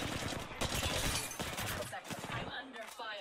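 Dense, sustained automatic gunfire and rattling bursts from the battle royale shooter Apex Legends, loud and close, with a brief voice partly buried under the shots.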